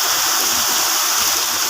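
Heavy rain pours down steadily with water gushing from a roof drainpipe, a dense, continuous, loud rushing wash with no voices.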